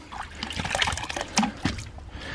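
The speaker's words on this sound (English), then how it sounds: "Just keep rinsing them out." Water sloshing and trickling as a recycled plastic bottle is rinsed out, with gurgling pours and splashes close by and no speech.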